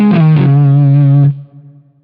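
Distorted electric guitar lick from Joy to the World, a quick hammer-on pull-off figure ringing into a sustained, effects-laden note with chorus shimmer that fades out abruptly.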